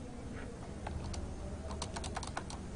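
Fingers type an access-list config command on a computer keyboard, a short burst of light, close clicking keystrokes over a steady background hum.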